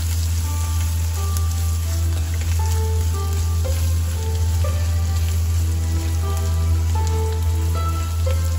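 Whole red chilies frying in hot oil with ginger, giving a steady, dense sizzle and crackle that continues unbroken, close up, over a low background hum.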